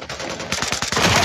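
Rapid gunfire from the video game Hyper Front crackles in quick bursts, a dense run of shots growing louder over a second, with no talk.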